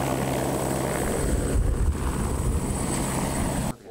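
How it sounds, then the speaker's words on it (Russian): An air ambulance helicopter's steady rotor thump and engine whine fill the air continuously, fairly loud, then cut off abruptly at the end. "А за вами уже вылетел этот вертолет с Владивостока."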